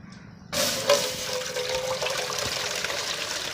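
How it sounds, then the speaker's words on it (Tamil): Water is poured onto a whole chicken being prepared for a tandoori-style fry in a village kitchen, starting abruptly after a short quiet moment as a close, steady splashing gush that continues to the end. "தண்ணி ஊற்றிக்கலாம்பா."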